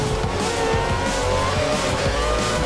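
A race car in the F1 2013 video game screams loudly at high revs while its tires squeal and skid through a corner, a dense, continuous roar throughout.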